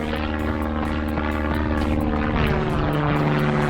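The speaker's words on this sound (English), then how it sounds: "That's one loud aeroplane." A loud propeller aeroplane passing overhead with a steady, droning engine roar that fills the whole stretch at constant strength, with no other sounds.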